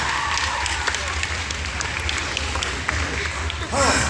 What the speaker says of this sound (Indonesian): tepuk tangan yang paling banyak semuanya